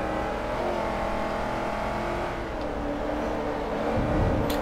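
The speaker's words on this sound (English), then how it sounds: "that supercharger on that Celine is freaking loud" Supercharged Saleen race car revving in Forza Motorsport 3 on the Maple Valley short circuit: a sustained, loud engine drone with layered whine, steady throughout with a slight surge at the end.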